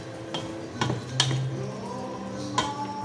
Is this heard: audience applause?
no